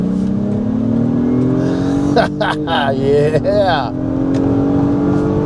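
A 2023 Acura MDX Type-S engine drones and climbs in pitch as it accelerates onto a highway, with a brief spoken word in the middle over the rising hum, partly artificial engine sound piped into the cabin.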